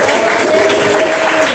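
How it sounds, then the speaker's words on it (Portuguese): Steady applause from a church congregation, dense clapping that holds at an even level throughout without pause. "Recebemos a irmã Nildes também com mais palmas"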